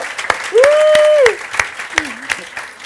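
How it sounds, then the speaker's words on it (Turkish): A few scattered hand claps from a studio audience on a Turkish late-night comedy show, sharp and spaced apart, with a held vocal tone rising and sliding over them. "Hanımefendi bir alkışlayalım"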